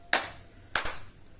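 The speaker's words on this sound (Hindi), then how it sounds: "तो अब हम ताली बजाकर 3 बार ताली बजाएंगे" Hand claps offered during home food worship, two sharp, close claps about half a second apart, crisp and isolated against a quiet room.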